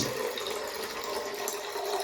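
Drinking water poured in a steady, continuous splashing stream, close and fairly loud, while homemade water-powered lamps are being made. No voices are heard.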